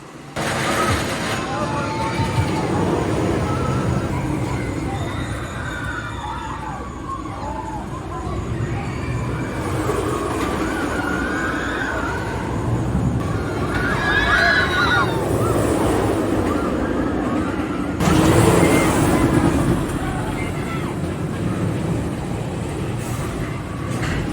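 Wildcat's Revenge roller coaster at Hersheypark roars along its track with a continuous loud rush of wind and rumble, with a few brief shrill cries from riders along the way.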